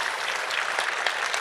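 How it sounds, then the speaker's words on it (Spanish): A conference audience applauds at the close of the first day's final session: a dense, sustained clatter of many hands clapping at an even level. "un aplauso doble para ustedes también por estar acá"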